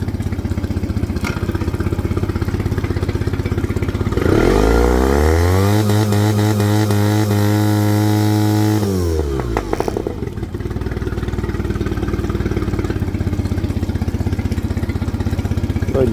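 A Suzuki DF20A outboard motor roars up to its neutral rev limiter, holding a loud, steady high-revving drone for several seconds before the revs drop back to a lower running note.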